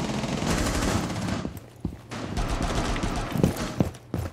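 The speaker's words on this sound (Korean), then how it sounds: "라인 샷건 소리 들리니까" Shotgun blasts in a deathmatch round of a first-person shooter: a few sharp, loud shots over continuous busy gunfire and game noise.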